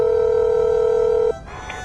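Phone dialing tone in the GTA 5 video game, a loud steady beep held for over a second, then cut off into quiet background.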